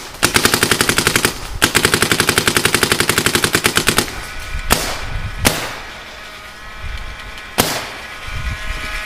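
Paintball markers, including Intimidator poppet-valve guns, firing outdoors in cold weather: a long, rapid, even string of sharp pops, a short pause and another burst, then several loud single shots spaced apart.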